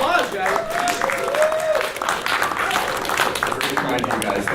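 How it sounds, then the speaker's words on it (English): Audience applause at a ConnectiCon 2016 press conference, a steady wash of clapping filling the room for several seconds, with voices talking over it. "Round of applause, guys."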